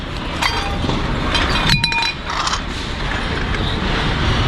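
Broken glass clinks and rattles as it is handled while dumpster diving, with sharp chinks and scraping over a dense, noisy outdoor background throughout.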